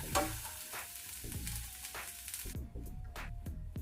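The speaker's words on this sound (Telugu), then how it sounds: "కరివేపాకు, ఉల్లిపాయ ముక్కలు వేసుకున్నాం కదా, ఇవి పచ్చి వాసన పోయే వరకు ఫ్రై చేసుకోవాలి" Curry leaves and chopped onions frying in a pan for an aloo bonda filling give a steady, fairly quiet sizzle broken by repeated scrapes and taps of a stirring spoon.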